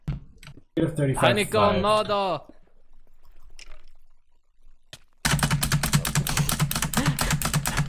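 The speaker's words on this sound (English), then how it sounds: "I don't think smashing your keyboard like that is going to do much." Computer keyboard struck and smashed in rapid, loud, dense bursts during Minecraft play, following a stretch of talk and near-silence.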